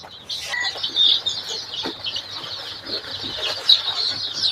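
Desi chicken chicks being moved into a crate, cheeping and clucking continuously at close range with brief wing flutters and handling rustles, no voices.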